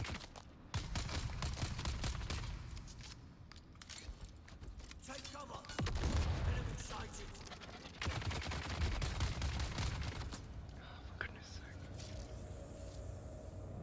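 Enemy gunfire in the video game Dune: Awakening, bursts of shots popping amid engine rumble and ongoing game noise, fairly quiet overall, with someone talking over parts of it.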